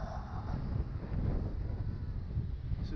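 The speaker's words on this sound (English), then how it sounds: "with extreme wind like this" Strong gusts buffet a DJI Mavic Air drone flying in sport mode with an Osmo Pocket camera mounted on top, producing a continuous, low, rumbling wind roar across the microphone with no talking.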